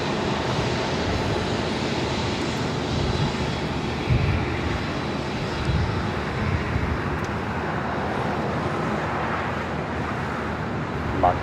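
A Delta airliner takes off from runway 25 right at LAX with a continuous, loud, broad jet roar that holds steady and fills the scene, with faint background traffic and no talking.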